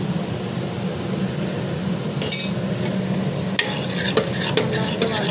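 A spoon stirs and sautés onion, tomato puree and chili powder in a pan, with a low frying hiss throughout and scattered metallic scrapes and clinks against the pan in the second half.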